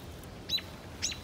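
Small birds nesting in an evergreen tree give two brief high chirps about half a second apart, faint and somewhat distant over a soft steady outdoor hiss.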